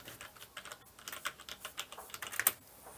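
Fingers tap on a Windows 10 computer keyboard, a quick uneven run of light close clicks that grows busier toward the end, with no voices.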